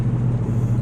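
A 2000 Ford Crown Victoria Police Interceptor with a muffler delete and quad tips idles with a deep, steady exhaust rumble, loud and close, with no talking.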